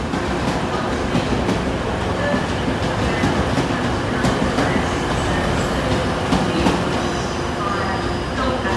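A Class 185 diesel multiple unit rolling into Sheffield station, with a steady rumble and faint clicks of wheels over rail joints heard up close, and platform voices faintly under it.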